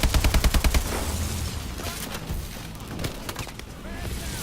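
Rapid automatic gunfire in the Call of Duty: Advanced Warfare campaign, a burst of close, evenly spaced shots followed by more distant scattered fire and rumbling battle noise.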